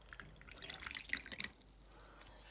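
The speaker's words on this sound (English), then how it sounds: "Let's put some water in here," Water trickles and drips into a small plastic toy pet bath, a brief, fairly quiet splashing pour up close that tapers off after a second or so, with no one speaking.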